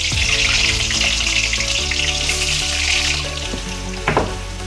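Freshly cut raw potatoes hitting hot oil for an aloo, onion and paneer sabzi, a loud close crackling sizzle with clinking and a sharp clatter near the end, no voices.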